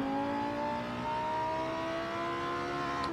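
A BMW M5 E60 engine at full throttle in a racing game, a loud sustained rev with steady rising harmonic tones across the whole stretch, close and alone with no speech.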